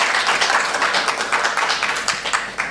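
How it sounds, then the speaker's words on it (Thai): A seminar audience applauds an economics professor being introduced, with steady hand clapping of moderate loudness from a room-sized crowd and no one speaking over it. "ขอเสียงปรบมือด้วยนะครับ"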